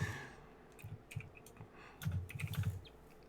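Quiet typing on a computer keyboard, irregular bursts of soft key clicks with brief pauses, close and alone without speech.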